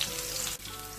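Garlic and whole five-spice (panch phoron) frying in hot oil for a Bengali-style trout curry, a steady dense sizzle throughout with a brief dip midway, close and loud with no talk.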